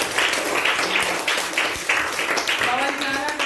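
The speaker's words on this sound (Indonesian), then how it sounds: "Tepuk tangan untuk Evan." Students in a classroom clap together in a steady burst of applause, with voices heard faintly underneath.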